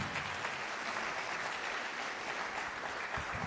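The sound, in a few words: audience applause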